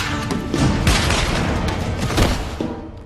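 Gunfire from an action movie scene: a dense, loud volley of rapid shots and heavy blasts, repeated bursts packed together over a few seconds with no clear gaps.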